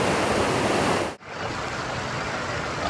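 Continuous roaring wash of a river flowing through the Costa Rica jungle, loud and close, with a brief dip in the middle before the steady rush resumes.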